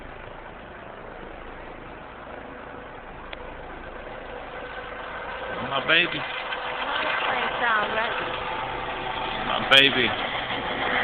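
A car engine idles steadily at a low level in the background, a constant rumble running beneath a voice as she speaks affectionately.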